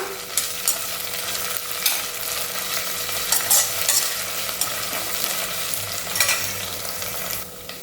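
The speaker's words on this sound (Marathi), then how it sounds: "आता आपण आपला लसणाचा ठेचा टाकूया व्यवस्थित दोन ते तीन मिनटं पुन्हा परतून घेऊया" Onion and crushed garlic fry in a pan, with a steady sizzle under repeated scraping stirs throughout; no one speaks.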